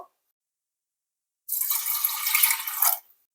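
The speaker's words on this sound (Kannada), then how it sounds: "ಈಗ ಇದಕ್ಕೆ ಐದರಿಂದ ಆರು ಕಪ್ ಅಷ್ಟು ನೀರ್ ಹಾಕ್ಬೇಕು" Water poured into a pot of washed moong dal, one steady splashing pour lasting about a second and a half after a silent pause, close and fairly loud, with no voices.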